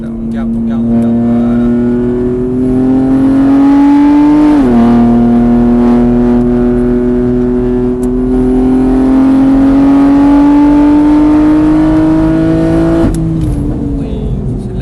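A race car accelerates around a track, its engine a loud, steady whine climbing in pitch with a sharp gear change midway and another near the end, while an instructor coaches in French over it.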